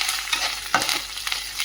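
A spice tempering sizzles and fries in hot oil while being stirred with a spoon for a nalleru (veldt grape) pickle. There is a soft continuous crackle with a few sharper scraping stirs, and no talking.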